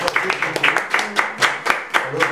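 Scattered hand clapping from a seminar audience, uneven individual claps in a loose irregular rhythm, fairly close and moderately loud, with voices murmuring underneath.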